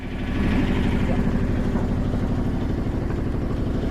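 A 1978 Yanmar YSB8 marine diesel engine, long unused in a flooded boat, idles with a steady, low rumble at an even pitch, close and constant for the whole stretch with no pauses.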